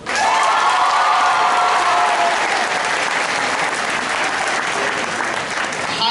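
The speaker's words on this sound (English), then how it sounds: "Please give him a round of applause." A crowd applauds at a middle school graduation ceremony, with sustained, dense clapping that fills the hall for several seconds before easing slightly.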